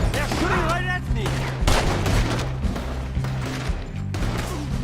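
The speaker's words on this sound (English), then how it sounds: "They're shooting right at me!" Dense video-game gunfire, rapid bursts and crashing shots layered continuously throughout, loud and close, with shouting voices mixed underneath.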